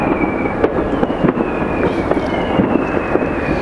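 Fireworks display seen from a distance, a steady dull roar broken by faint scattered pops and crackles, continuous and fairly loud with no voices.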